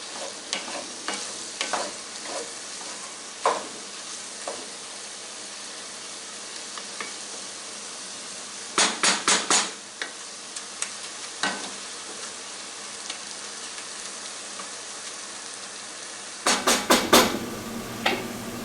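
Ground meat sizzling and browning in a dry pot, a steady low fry broken by clusters of scraping spoon strokes and taps against the pot, with no talking.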